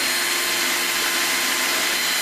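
A power drill runs continuously at high speed, a loud steady whine grinding through material while drilling a hole in a Bluetooth boombox cooler for a couple of seconds, with no voices.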